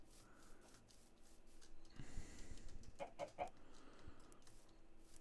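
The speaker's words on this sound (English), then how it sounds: "Oh, more chickens. I heard you." Chickens in the Minecraft video game cluck in short, quiet bursts, several soft clucks in a row at low volume, with no speech over them.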